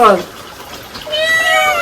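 A cat meows twice nearby, a short cry followed by a longer, higher meow, over faint background noise.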